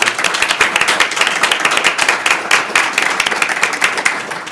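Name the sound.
applause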